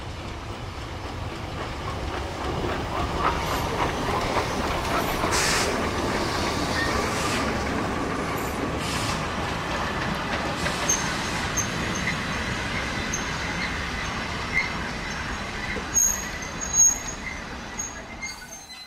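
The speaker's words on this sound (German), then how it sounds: "Im Vorfeld des Bahnhofes, parallel zu den Streckengleisen der SBB, konnten die Lokomotiven umgesetzt werden." Historic steam locomotives, a pair of century-old Swiss engines, shunting in a station yard beside the main line at Sursee, with a steady rolling rumble of wheels on rails, soft hissing, and a few sharper clanks near the end.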